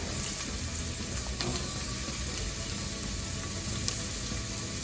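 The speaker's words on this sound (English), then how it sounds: "the celery can be added into the pot along with the onions and the garlic" Celery, onions and garlic cooking in a soup pot give a steady close hiss of sizzling, with a couple of faint utensil taps breaking the even texture, and no talk.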